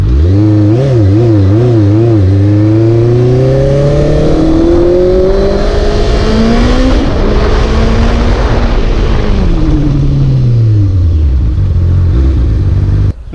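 Honda CB650F motorcycle with a loud aftermarket exhaust revving up through the gears, a close, harsh engine note climbing and dropping in pitch with each shift.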